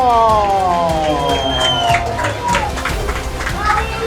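A crowd cheers, whoops and claps for a boxer called up at a fight-night weigh-in at L'Officine in Lausanne. The noise is loud and sustained for a few seconds, with a voice carrying over the crowd.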